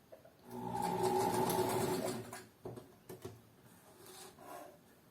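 An industrial automatic sewing machine runs in one sustained, close burst of rapid stitching lasting over a second, then stops, followed by a few short mechanical clicks and knocks.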